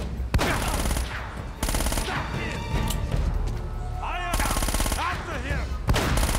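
Heavy gunfire blasts from a shotgun fight in Uncharted: Drake's Fortune, a jet ski action stage, with several loud broadband bursts spread across the scene over game music and effects.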